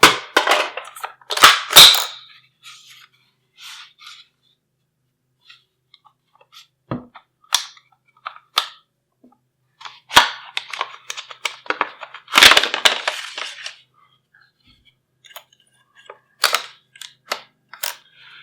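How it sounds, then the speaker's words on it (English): Handguard being taken apart on a G36 rifle, heard as scattered sharp clicks, snaps and metallic clatter of parts, some loud and close, separated by near silence. "we're going to take apart the handguard on the G36"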